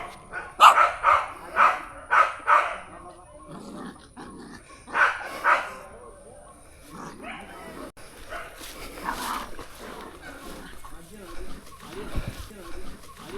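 Dog barking in a rural village lane along a cycling route, a series of loud close barks and yips in the first few seconds, then quieter intermittent sounds with people talking nearby.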